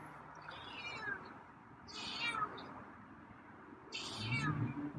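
A feral cat named Scruffy meows three times at roughly even intervals, each call fairly short and moderately loud against a quiet, low background hum, with no talking.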